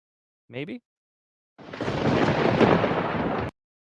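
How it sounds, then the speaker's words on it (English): A thunderstorm's thunder, a single loud, broad rumbling crash lasting about two seconds and cutting off abruptly, preceded by a brief voice. "There's your famous storm, everybody."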